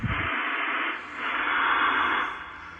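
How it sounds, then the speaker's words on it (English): Steady hiss of FM receiver noise from a Ten Tec Omni 6+ ham radio running with no antenna attached, loud and continuous with a slight swell partway through, no voices. "FM makes a lot of noise."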